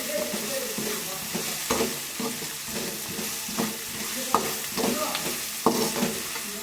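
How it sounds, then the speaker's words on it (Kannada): Food sizzles and fries in a pan at home while a spoon stirs it, giving a steady hiss broken by regular scraping knocks against the pan. "ರುಚಿಗೆ ತಕ್ಕಷ್ಟು ರುಚಿ ಹಾಕ್ಬಿಟ್ಟು ಫ್ರೈ ಮಾಡ್ಕೊತಾ ಇದ್ದೀನಿ"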